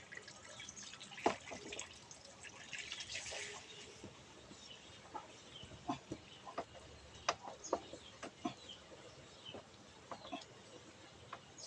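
Water drips steadily from a tap in a faint, irregular patter of sharp drops, with a few louder ones standing out from the quiet background.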